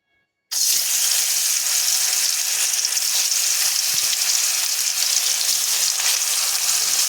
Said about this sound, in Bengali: এখানে তেল গরম হয়ে গিয়েছে, আমি মাছ দিয়ে দেবো।